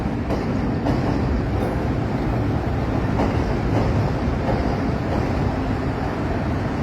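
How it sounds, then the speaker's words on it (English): A loop line train heading downtown rumbles past in a steady, fairly loud roll with faint rhythmic clacks, heard outdoors on a tree-lined street. "you see the beauty of loop line train which is proceeding toward the downtown"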